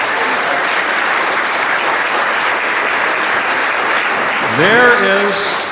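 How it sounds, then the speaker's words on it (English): A crowd applauds steadily and loudly throughout, with a whoop rising near the end. "Give him some applause."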